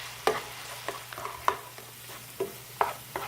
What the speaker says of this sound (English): I'm just going to stir that around to mix it real well and cook it until it's warmed through